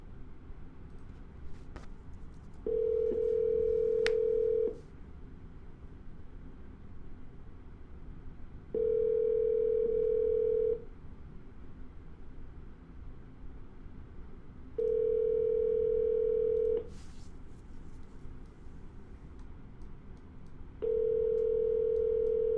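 Telephone tones on an outgoing call: four steady, loud tone bursts of about two seconds each, evenly spaced roughly six seconds apart, with a low murmur of line noise between them and no talking.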